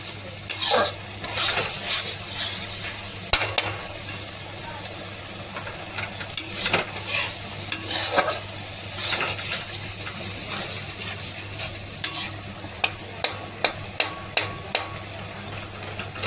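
Onion masala sautéing in a pan, a steady close sizzle with scraping stirs and sharp utensil clicks against the metal, the clicks bunching into a quick run near the end.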